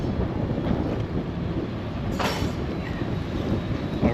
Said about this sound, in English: there's a subway right across the street